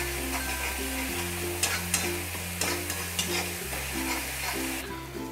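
Spiced masala frying in a pan with a little water, stirred steadily, giving a soft continuous sizzle with a few scraping strokes under a loud, sustained background music bed.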